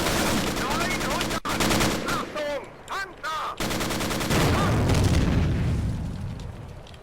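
Bursts of machine gun fire from a Pz.III tank in the Steel Fury video game rattle loudly and repeatedly, suppressing infantry, with short pauses between sustained volleys and heavy booms.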